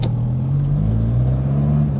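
A BMW M5 F90 passing close by, its engine a loud, steady low rumble over about two seconds.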